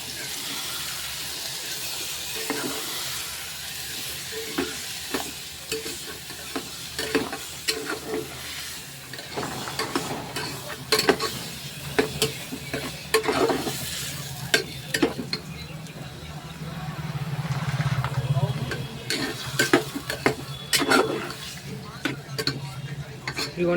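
Mutton keema and masala paste stirred in a pan, a spatula scraping and clinking in repeated strokes over a steady low sizzle, close and fairly quiet, with no talking.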